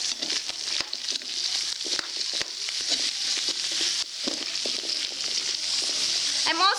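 Carrots for chicken chopsuey stir-frying in a pan, giving a steady close sizzle and crackle throughout, with faint clicks of stirring.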